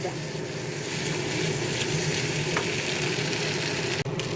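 A Bengali vegetable chop filling, seasoned with salt, turmeric and a little sugar, sizzles steadily in a hot pan as it is stirred. The frying hiss is close and continuous, with an occasional faint scrape.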